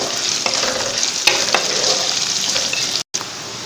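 Finely chopped onions fry over a medium flame in a pan for biryani, with a steady close sizzle and scraping stir strokes and a brief dropout near the end.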